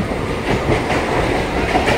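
A crowded passenger train runs along the rails with a steady rumble and rhythmic clickety-clack of the wheels, heard close from inside a carriage without any speech.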